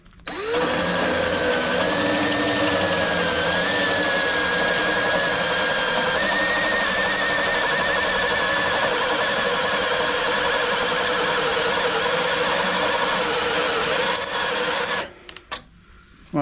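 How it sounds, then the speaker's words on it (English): Power drill boring out rusted spot welds on the sill of a Land Rover Discovery 3, a steady continuous whine with slight pitch shifts running unbroken for about fourteen seconds before stopping, close and loud. "we're drilling out the spot welds where we think they are"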